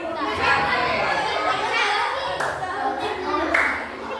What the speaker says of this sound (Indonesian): Siap-siap, tepuk tangan semuanya ya, sambil tepuk tangan